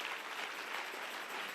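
A church congregation claps together during a sermon, a steady dense patter of many hands that stays even and moderately loud, with no voices over it.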